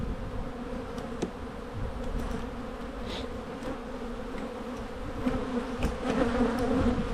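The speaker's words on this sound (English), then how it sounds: "Beautiful, healthy bees." Honeybees buzz steadily at an open hive in January as foragers bring in pollen, a dense, close, continuous drone with slight swells and no talking.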